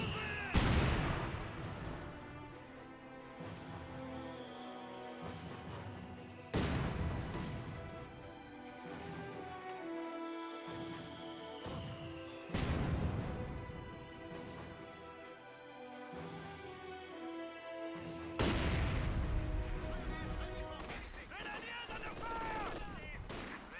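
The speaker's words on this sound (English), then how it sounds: "50 cal getting hit by the mortar again" In a Company of Heroes 2 battle, mortar rounds slam into a .50 cal position: repeated heavy booming impacts every few seconds over continuous crackling gunfire and battle noise, with a commentator talking throughout.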